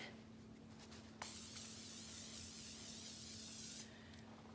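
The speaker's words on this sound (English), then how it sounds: "I am going to spray a little oil on the same sheet pan that I baked the pecans with." Oil sprayed from a can onto a metal sheet pan, the pan previously used to bake pecans for maple pecan brittle: one steady, close hiss lasting a few seconds, preceded by a click and some light handling noise.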